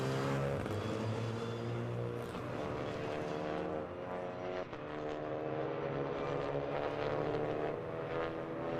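Turbocharged Clio Cup race cars running on circuit at Nogaro, a continuous raspy engine drone at a distance, with pitches shifting as cars pass, and no other sounds above it.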